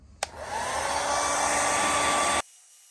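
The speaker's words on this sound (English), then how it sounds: "you don't have to sit here and listen to a hair dryer run" A hair dryer heats a knife sheath, starting with a click and then blowing as a steady loud rush for about two seconds before it cuts off abruptly.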